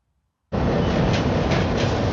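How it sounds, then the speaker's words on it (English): Train from the film Mad Max: Beyond Thunderdome, bursting in suddenly after a moment of near silence as a loud, steady rumbling roar of rolling wagons. "Look at that train."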